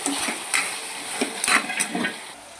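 A spoon stirring free-range chicken curry with drumsticks in a pot after salt is added, giving a few brief close scraping strokes over a faint sizzle.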